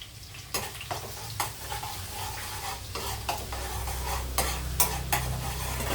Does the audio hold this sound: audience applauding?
no